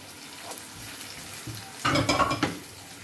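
Anchovy soup ingredients sautéing in a pan, with a faint sizzle and a few soft clinks, then a short burst of louder stirring and sizzling near the end.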